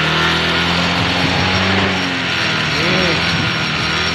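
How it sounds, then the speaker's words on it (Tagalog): A Yamaha Mio 125 motorcycle engine revs loudly and continuously, a dense roar with slight swells in pitch and no pauses. "Ayan, nare-revolution na."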